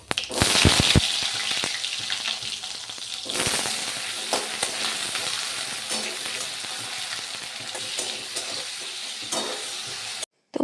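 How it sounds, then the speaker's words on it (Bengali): Vegetarian cabbage curry sizzles loudly in a hot pan and is stirred with bursts of spattering and scraping. The steady frying continues up close with no voices. "চলো নিরামিষ বাঁধাকপি তরকারিটা চাপিয়ে দিই"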